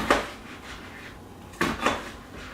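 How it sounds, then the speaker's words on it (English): Knife slicing through a flattened, peeled ingredient on a cutting board while prepping chili, a few soft close cuts at the start and two sharper chops near the end, with no talking. "I cut it, I lay it flat, and then I just slice it like this"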